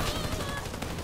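A Spats 12 shotgun fires in the first-person shooter Warface: a dense, loud burst of gunfire that fills a short moment over a busy combat background.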